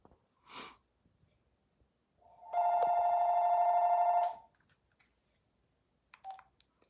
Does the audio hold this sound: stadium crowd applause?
no